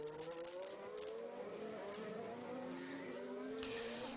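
A Formula 1 car racing at Monaco, its high-pitched engine note dropping steadily while a wheel locks up under braking, with commentary over it.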